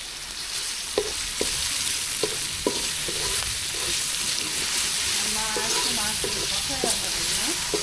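Spices and fish sizzle and fry in a pan as fish curry with green banana is cooked, with a steady hiss broken by the sharp clicks and scrapes of stirring, fairly close.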